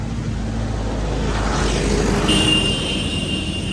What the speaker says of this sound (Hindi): ये जा रहा है ट्रैक्टर, पीछे आ चुका है यहाँ पे ट्रैक्टर।